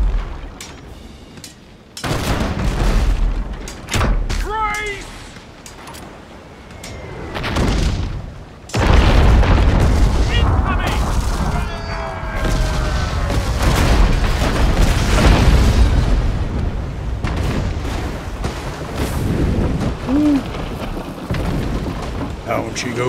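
Gunfire and explosions from the PC naval combat game Abandon Ship roar loudly, with heavy booms, rumbling blasts and crackling impacts layered over a stormy, rain-like wash across the whole stretch.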